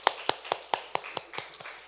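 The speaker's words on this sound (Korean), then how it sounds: "우리 하나님께 박수 영광 드리겠습니다." Several hands clapping in a steady rhythm, about nine crisp claps in under two seconds, at a church teaching gathering.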